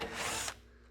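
A power drill whines briefly, loud and close, while backing out a screw on a Carrier furnace heat exchanger, then cuts off abruptly into a quiet hum.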